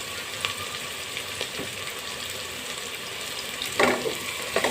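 Onions frying in a pan with a soft, steady sizzle, close by. A few brief stirring or scraping sounds come through, and one stronger burst of crackle is heard near the end.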